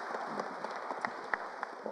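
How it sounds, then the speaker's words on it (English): Scattered applause from a crowd, fairly distant and soft, with irregular claps popping out above the steady patter. "Big applause, Michael."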